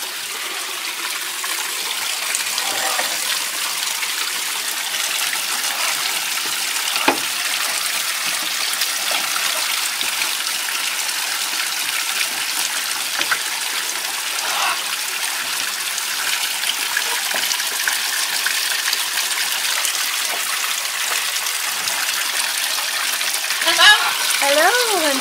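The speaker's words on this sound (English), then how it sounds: "Let's turn the water on." Water from a tap runs continuously with a steady hiss and splash in a greenhouse holding macaws and tortoises, with occasional faint bird calls in the background.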